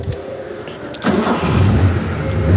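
A 1969 Triumph TR6 straight-six starts up, the cranking giving way after about a second to a steady, rumbling idle that builds slightly, close by and with no talking over it.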